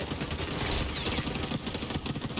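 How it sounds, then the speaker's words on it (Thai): Dense rapid gunfire in the shooter game XDefiant, a loud continuous burst of automatic shots with no talk over it. "มีคนยิงผมแหละ"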